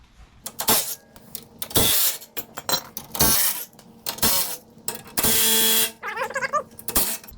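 Metal clanks, clinks and ratcheting from 14mm bolts being removed from a dirt-caked brace under a 2021 Toyota 4Runner during a skid plate install, sharp intermittent bursts close by with quiet gaps between them.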